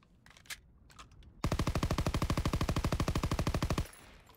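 Machine gun fire in the World War II shooter Call of Duty WW2 rings out as one long, rapid, even burst of loud shots after a few scattered earlier pops, with no talking over it.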